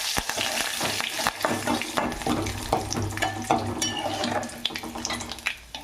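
Cumin seeds and curry leaves fry in hot oil with a close, crackling sizzle, sharp pops and spits over a steady hiss, with occasional stirring scrapes.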